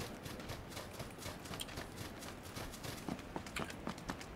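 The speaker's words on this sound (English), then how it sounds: "Footsteps close by me." Rapid footsteps of a nearby character in a shooter video game, a steady run of soft thuds and scuffs at close range with no talk over them.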